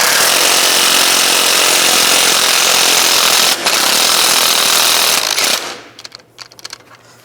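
A power tool runs continuously and loudly while loosening a front lower control arm bolt on a 2005-15 Nissan Xterra, giving a harsh broadband whir with one brief dip, then cutting off into quiet clinks and handling sounds.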